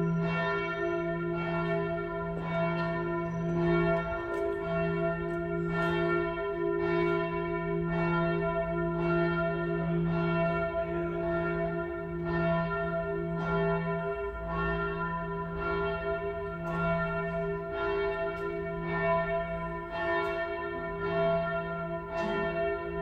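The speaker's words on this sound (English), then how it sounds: "that bell sounds amazing." A church bell at Chateau de Quantilly tolls steadily, loud and resonant, each strike ringing into the next in a slow even rhythm with a sustained humming tone beneath.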